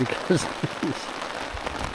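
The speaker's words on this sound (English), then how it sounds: "it's yeah, pretty persistent rain now" Persistent rain at a lakeside canoe camp in Sweden, a soft, steady patter on surfaces while someone speaks briefly over it.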